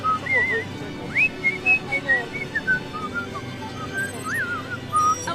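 A man whistles a lilting tune by mouth in place of a tin whistle at an outdoor rally gathering, bright wavering notes in short phrases over a murmuring crowd and background noise.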